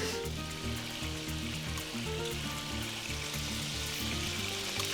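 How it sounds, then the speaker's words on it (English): Meat browning in a hot pan for chili, pieces turned to brown each side, a steady loud sizzle and crackle throughout with low clattering underneath and no voices. "I turn each one over on each side, get each side brown."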